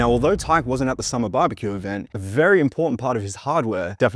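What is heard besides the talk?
No everyday noise stands out behind the speech.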